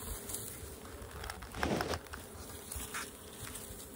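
Honeybees at the front of a hive make a dense, close buzzing that is fairly quiet and continuous, with a brief louder swell in the middle.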